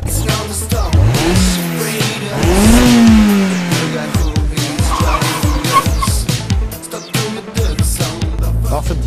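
A small 1.6-litre four-cylinder convertible sings loudly through its exhaust, revving up and down in rising and falling sweeps with tire squeal and skidding on a sporty drive, no talk.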